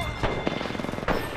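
Gunfire in the video game Apex Legends, a few sharp shots at the start, middle and end of a short burst, loud and close, over a busy background of game sound.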